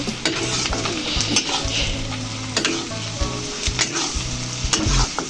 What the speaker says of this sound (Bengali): আমি একটু ঝাল ঝাল খেতে পছন্দ করি তাই একটু বেশি করে মরিচের গুঁড়া দেবো ভালোভাবে ভেজে নিতে হবে